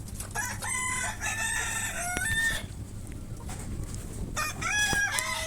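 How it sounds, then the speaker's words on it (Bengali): Roosters and hens on a small farm: several loud, near crows ring out in two bursts with a quieter gap between them, over a constant background of clucking. "এখানে 4টা-5টা মুরগি আছে, মোরগ আছে।"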